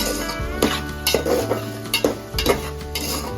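Cut drumstick pieces tumble into a pan of sautéing garlic and onion for a village-style South Indian tamarind kuzhambu, bringing a steady sizzle with several spoon stirs and clinks against the metal, close and alone with no talk.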